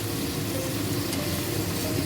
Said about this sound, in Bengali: একদম গরম গরম ছাঁকা তেলে চাক আলু ভাজা